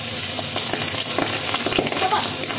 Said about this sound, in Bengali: এরকমই ফুটছে মাছ